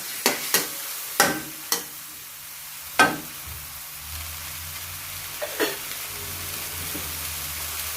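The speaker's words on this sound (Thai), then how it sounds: "คนให้เข้ากันค่ะ" Baby bok choy and shrimp being stirred in a frying pan with oyster sauce and a little sugar: several sharp spatula clacks against the pan over a soft, steady sizzle, close and fairly quiet.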